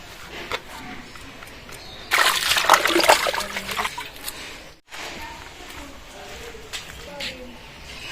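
Chickpea leaf greens being washed by hand in water, with light trickling and dripping that swells into a few seconds of splashing and sloshing, then settles back to soft drips.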